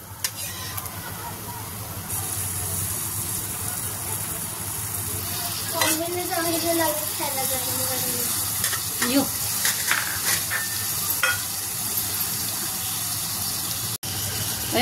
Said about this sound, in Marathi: आता आपण या स्टेजला हे हळद आणि मीठ लावलेली कोळंबी आपण त्यामध्ये टाकणार आहोत